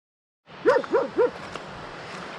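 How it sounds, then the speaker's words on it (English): Outdoors on a trek in Tusheti, Georgia, a local dog trailing hikers gives three quick, sharp barks in a row. Steady wind noise runs under the barks and continues after them. "Dogs are still with us. Barking."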